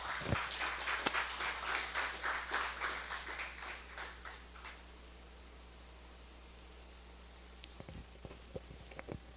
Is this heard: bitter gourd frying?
no